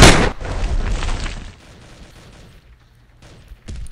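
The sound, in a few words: gunfire in a multiplayer video game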